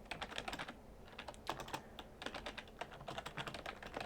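Rapid typing of code on a computer keyboard, a steady run of close, crisp key clicks with short pauses and no talking.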